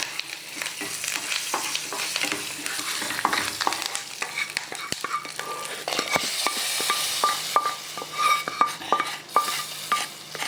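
A hot tempering with curry leaves is poured into ash gourd buttermilk curry (mor kuzhambu), giving a steady sizzle with clinks and scrapes of a spoon and pot, close and continuous.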